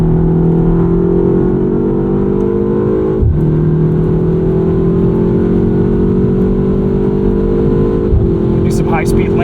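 Engine of a 2025 BMW M235 Gran Coupe accelerating from inside the cabin, a loud droning tone rising steadily with a brief dip at a gear change, then climbing again.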